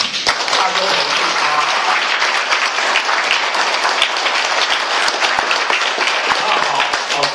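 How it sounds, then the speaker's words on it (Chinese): A crowd at a gathering gives sustained, dense applause that stays loud and even throughout, with no speech over it. "大家掌声鼓励"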